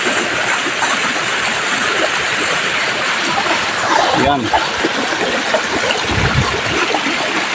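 Water gushing and splashing steadily from a burst pipe elbow on a home water line, a continuous loud rushing spray with a brief voice partway through.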